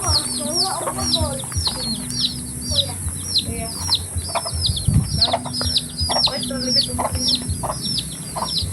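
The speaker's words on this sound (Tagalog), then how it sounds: "May chicken." Chickens cluck repeatedly in quick, chattering bursts, with chirpy birdsong and a low background hum around them, fairly close.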